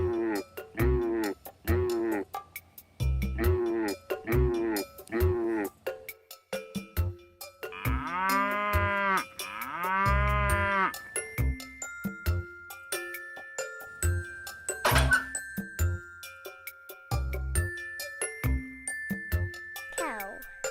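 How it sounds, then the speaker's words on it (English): A farm cow moos in several drawn-out calls, first in short repeated bursts and then in longer lowing, with jingling bells and clinks scattered throughout. "Cow."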